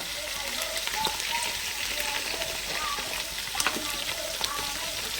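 Curry leaves and cumin seeds frying in hot oil give a steady crackling sizzle that runs through the whole stretch, scattered with sharp spitting pops.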